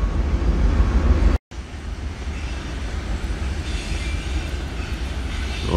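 A train passes near a country house with a steady, loud low rumble and clatter, briefly cut off by a short dropout before it resumes.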